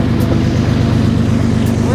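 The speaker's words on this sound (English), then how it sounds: "You can hear the sound of that diesel engine revving up." A train's diesel engine revs up with a loud, steady low rumble and throb as the train pulls away and gathers speed.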